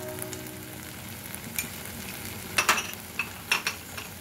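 Masala spices sauté in a pan for chicken kheema, with a soft continuous sizzle broken by clinks and scrapes of a spoon stirring against the pan.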